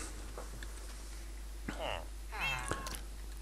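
Two drawn-out meows from a Minecraft cat, clear and fairly close, after a soft click, with low background hum throughout.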